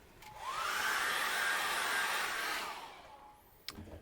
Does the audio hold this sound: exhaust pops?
no